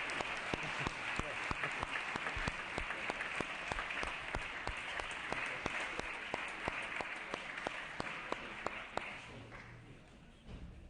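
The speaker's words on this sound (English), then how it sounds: "And please give him a round of applause." Sustained applause fills a legislative assembly floor session for a young man, dense clapping holding steady for about nine seconds before tapering off at the end.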